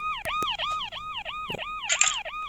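A fast cycling wail from a Lego police car or fire truck siren in the game Brook Haven, close and steady, punctuated by a few sharp clicks and a brief burst of higher noise, no talking.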